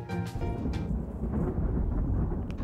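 Thunderstorm in the video game Fate/Grand Order: a low rolling rumble with rain-like hiss, moderately loud and sustained, with a few brief brighter crackles early and near the end.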